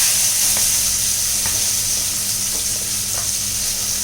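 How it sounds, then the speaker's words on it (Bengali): Large prawns coated in turmeric and chili frying in oil, a dense, loud, continuous sizzle with a few faint crackles and no speech. "ভাজতে দিলাম।"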